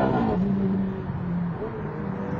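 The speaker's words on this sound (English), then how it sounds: "The best bit about this new 430 is the engine" A Ferrari F430's engine drones steadily from inside the car on the road, a low, throaty hum that holds under a brief hint of a voice.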